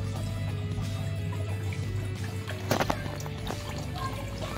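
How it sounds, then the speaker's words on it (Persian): Water drains all at once from an aquaponics tank, a steady gurgling pour and trickle with a few louder splashes midway, close and continuous. "این هم که میذارم باعث میشه که آب به یک باره تخلیه شه"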